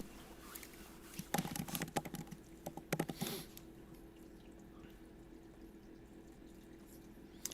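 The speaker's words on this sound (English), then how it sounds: "I'm writing this down if you can hear my typing." Typing on a computer keyboard, a quick burst of clicky keystrokes close by, then sparse taps fading to quiet room tone.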